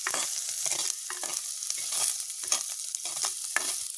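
Onion, garlic and chilli sautéing in a pan, a continuous bright sizzle with repeated rhythmic scrapes of a spatula stirring them, close up and alone.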